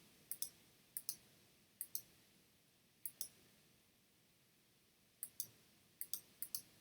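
A computer mouse is right-clicked while working in Photoshop, producing crisp, close double clicks in small pairs spaced a second or so apart over a quiet background.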